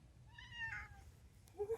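A pet cat in a camper van on a chilly morning at breakfast gives one clear, moderately quiet meow, followed by a brief short sound near the end.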